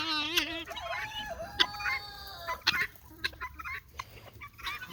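Guinea fowl and chickens are chased out of a spot on a farm, letting out a burst of agitated squawks, clucks and shrill calls at close range.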